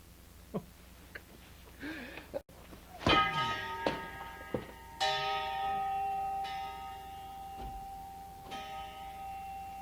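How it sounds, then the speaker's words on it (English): Several bells ring out with long, resonant tones that overlap and sustain, struck a few seconds apart and fading slowly, with no voices. "I've been hearing bells."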